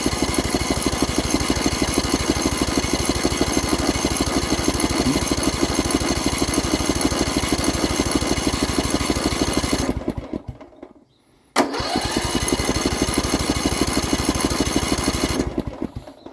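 A Poulan Pro small gas engine on a test stand runs on choke with a loud, steady, rapid putter. It sputters out briefly, catches again and keeps chugging before fading near the end.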